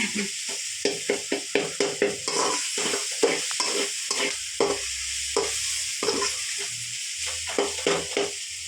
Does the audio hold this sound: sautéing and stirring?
yes